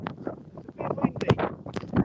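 Gusty wind buffets the microphone in uneven bursts, with muffled voices faintly underneath.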